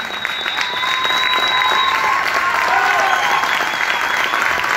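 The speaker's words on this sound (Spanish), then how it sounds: "Disco de oro por trayectoria. Fuerte el aplauso." Loud, steady audience applause with some crowd noise at a gold record presentation, sustained throughout with a faint whistle early on.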